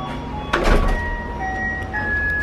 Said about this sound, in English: Is that an ice cream truck?